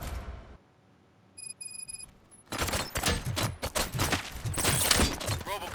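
Rapid gunfire breaks out in the Robocop game scene, a loud dense burst of repeated shots that follows a short electronic beeping and fills the rest of the stretch with sharp cracks.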